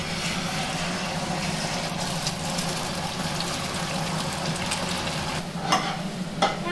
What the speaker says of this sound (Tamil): இப்போ நம்ம மிக்ஸ் பண்ணி வச்சுருந்தா எக்கெல்லாம் போட்டுடலாம்